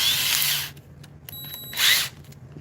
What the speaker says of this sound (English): We're just gonna throw some screws in it,